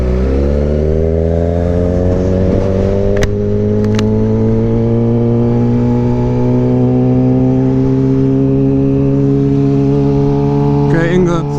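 A new Suzuki GSX-R 600 motorcycle revs loud and close, its engine note climbing steadily in pitch through a long sustained pull, with a brief blip near the end; no talk over it.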